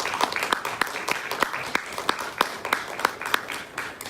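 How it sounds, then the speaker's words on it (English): A church congregation at a Sunday morning service claps for the musicians in a light, somewhat sparse round of applause, with individual sharp claps standing out over a softer background patter. "Let's give another round of applause for all the musicians."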